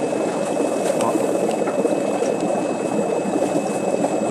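Water drains and gurgles out of a Sunsun HBL aquarium canister filter as it is emptied, a continuous close rushing, bubbling flow.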